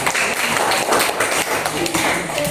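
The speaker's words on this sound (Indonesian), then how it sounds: "Kita beri tepuk tangan." A classroom group claps for students who have just finished presenting their discussion results, a dense, fairly loud patter of hands that continues without pause for a couple of seconds.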